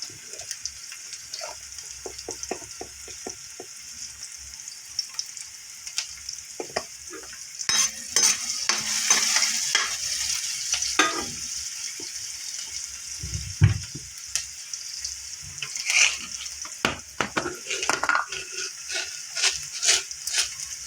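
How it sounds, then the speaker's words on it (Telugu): Chopped onion sizzling in a pan with turmeric, a steady bright hiss with intermittent scraping stirs, louder and busier midway, with no talking. "కొద్దిగా త్వరగా వేగనిద్దాం."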